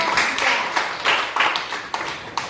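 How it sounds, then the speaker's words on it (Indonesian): A group claps together in a classroom to applaud a team that has just finished its presentation, with steady, fairly close hand claps that swell in short bursts. "berikan aplaus untuk kelompok 3"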